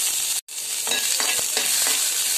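Ginger, garlic and green chili frying in a little oil in a kadhai, a steady close sizzle with a few stirring scrapes after a brief gap near the start.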